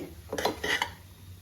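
A metal spoon scrapes and clinks against a pan as avarekalu chitranna rice is mixed with coconut, giving two quick bursts of stirring close by with a quiet background.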